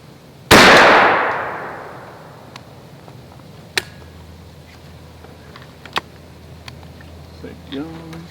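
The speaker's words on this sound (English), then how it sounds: "Federal Premium TSS number 9 410 gauge out of the Stevens 301." A single loud shot from a Stevens 301 single-shot 410 gauge shotgun firing Federal Premium TSS number 9 turkey loads outdoors, with a sharp blast and a long decaying tail, followed by faint clicks and a brief voice near the end.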